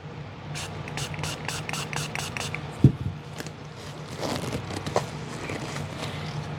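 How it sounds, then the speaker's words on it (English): A few short hissing bursts of alcohol spray misting into a resin mold early on, followed by quieter scraping and handling noises close by. "Let me spray some alcohol down inside there"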